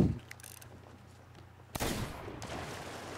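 A single loud gunshot in the pirate game Sea of Thieves, a sudden close blast after a quiet stretch, followed by a decaying rumble and a second smaller crack.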